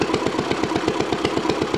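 A Collis five-horsepower stationary engine of Cushman design, throttle-governed with a single rocker arm working both valves, runs steadily up close with an even, rapid chuffing beat.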